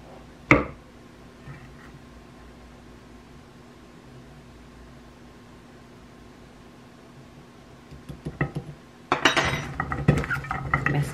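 Potatoes and sweet potatoes being tossed with oil in a baking dish for oven roasting: a sharp clink near the start, then quiet, then a burst of scraping and clattering against the dish toward the end.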